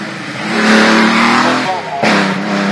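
A vintage supercharged Bugatti engine at a 2011 hillclimb revs up close and loud with a rising mechanical howl, eases briefly, then surges again in a second sharp burst.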